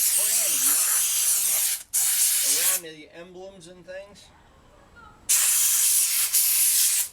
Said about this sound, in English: Where the steam cleaner is really good is at getting in little nooks and